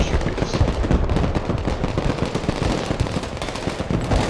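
Weapons fire in the Broken Arrow war game: a dense, unbroken stream of rapid machine-gun bursts and crackling shots, loud and steady the whole time.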